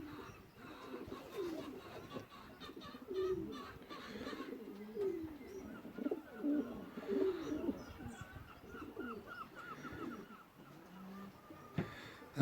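Stock doves cooing at an allotment, a soft repeated run of low, throaty coos with a few light chirps over a quiet outdoor background, fairly close and continuous.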